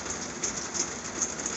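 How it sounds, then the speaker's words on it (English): Heavy rain pours steadily at a cattle farm where cows and calves are out in the pasture, a dense, even hiss that continues throughout with no voices. "it's raining like a sunbitch now"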